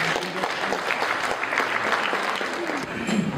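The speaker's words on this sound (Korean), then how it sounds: "여러분, 큰 박수로 부탁드립니다." An audience at a memorial ceremony for Korean independence patriots applauds a professor and a women's vocal ensemble taking the stage, continuous dense clapping throughout, steady and fairly loud across a large hall.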